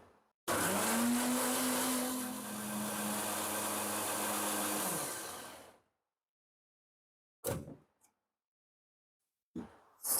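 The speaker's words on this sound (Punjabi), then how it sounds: "ਇਹਨੂੰ ਮਿਕਸੀ ਦੇ ਵਿੱਚ ਪੂਰੀ ਤਰ੍ਹਾਂ ਗ੍ਰਾਈਂਡ ਕਰ ਲੈਣਾ ਬਰੀਕ ਪੀ ਲੈਣਾ ਹੈ" A mixer grinder grinds soaked almonds into a fine paste for a smoothie, running as one loud, steady motor whir for about five seconds before cutting off, followed by two short pulse bursts.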